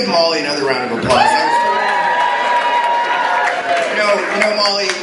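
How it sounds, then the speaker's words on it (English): Wedding guests cheering and applauding at a reception, a loud crowd roar with shouts and whoops over steady clapping, with voices calling out and a sustained vocal cheer rising partway through. "let's give Molly another round of applause"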